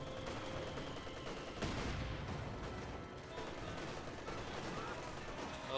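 Machine gun bursts and mortar fire in the video game Company of Heroes 2, a dense, continuous battle din of rattling gunfire and thuds, quiet and steady, with a commentator's voice likely mixed in.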